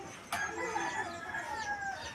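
Chickens cluck softly and intermittently at a distance in a quiet outdoor setting, with a faint crowing-like call drawn out across the short span.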